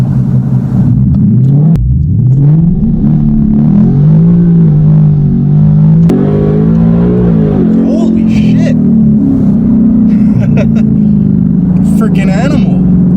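A 2018 Mustang on a 50 shot of nitrous accelerates hard from inside the car, engine note rising in pitch through the gears with a sudden shift, loud and continuous, with people's voices over it.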